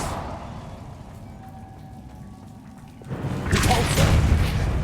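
An Incendio fire spell cast in the video game Hogwarts Legacy bursts into a loud, close whooshing boom of flame after a quiet, humming stretch, roaring on for nearly two seconds.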